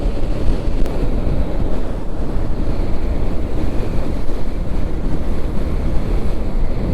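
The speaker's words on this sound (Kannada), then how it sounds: "ಸ್ವಲ್ಪ ಹಿಲ್ ಮೇಲಿದೆ ಯಾವಾಗಲೂ ಹೆವಿ ವಿಂಡ್ ಇರುತ್ತೆ" Heavy wind roars steadily and loudly against a motorcycle rider on a hill road near Bagewadi, on a ride from Kalaburagi to Almatti, drowning out everything else.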